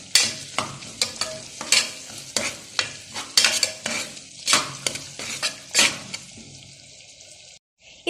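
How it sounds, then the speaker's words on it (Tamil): Tomatoes sauté in ginger garlic paste for mutton biryani, a spoon scraping the pan in a steady rhythm over a constant sizzle before the stirring stops near the end. "இப்போ நல்லா வதக்கிக்கோங்க."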